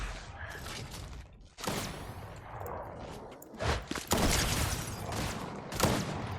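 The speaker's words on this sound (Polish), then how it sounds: "Ej, pompa mi sama strzela." Pump shotgun in the Fortnite video game discharging by itself, a string of loud, sharp blasts at irregular intervals, each a broadband crack standing out over busy game sounds and movement.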